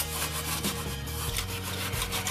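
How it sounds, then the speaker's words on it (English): Steel wool is rubbed over a drum shell for an e-drum kit, giving a close, rhythmic scratchy rasp in repeated strokes, with no talking. "Now I'm using the steel wool."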